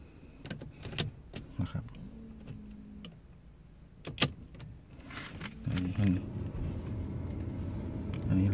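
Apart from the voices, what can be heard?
2011 Porsche Cayenne diesel turbo engine starting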